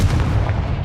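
A booming blast from the Confringo fire spell in Hogwarts Legacy, a dense low rumbling burst that fills the whole moment, loud and close.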